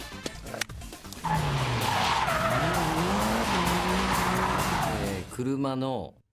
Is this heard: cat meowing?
no